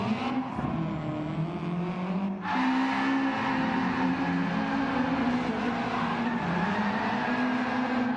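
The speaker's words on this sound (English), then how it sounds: "Burnouts begin." RC cars in an EVO versus WRX league final at Kyoto Driving Park do burnouts. Buzzy electric motor whine and shrill tire squeal rise and waver continuously, with a surge after about two seconds, moderately close.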